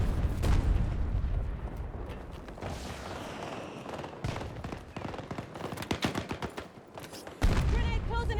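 Gunfire in a Battlefield 2042 battle, rapid bursts and single shots crackling close and at mid distance over a dense, rumbling battlefield din, with a loud burst near the end.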